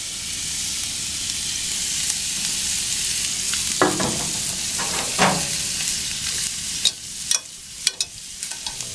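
Small shrimp and chopped onions frying in a pan, giving a steady hiss, with a few louder clattering knocks and scrapes in the second half, close up and without speech.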